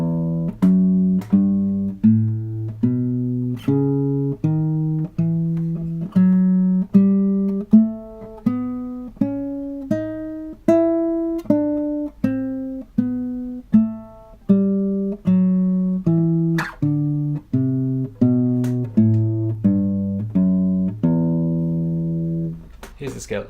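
A guitar plays an ABRSM Grade 3 scale alone, with single plucked notes evenly spaced that climb and then descend at a slow, steady pace.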